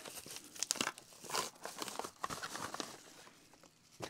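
Paper tearing and crinkling as a viewer mail package is opened, with a run of quick rips and rustles that come in uneven bursts close by, then ease into softer handling noise.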